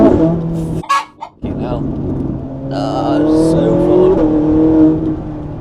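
A 2010 Ferrari 458 engine revs hard under acceleration, with lightning-quick gear changes breaking the rising drone into steps. A brief lift between shifts is followed by a sustained climbing wail, heard from inside the car with voices talking over it.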